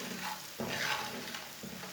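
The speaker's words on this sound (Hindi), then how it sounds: "आधा मिनट तक भून लेंगे मसालों को।" Spices, red chili, turmeric, garam masala and ground coriander, stir-fried in a pan for egg macaroni, giving a steady close sizzle with a few scraping stirs and no talking.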